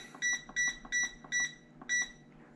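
Five crisp electronic beeps from a food dehydrator's control panel as its timer is set, evenly spaced in a quick regular rhythm, close and clear over a quiet background.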